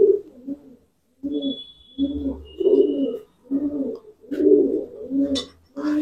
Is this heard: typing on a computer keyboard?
no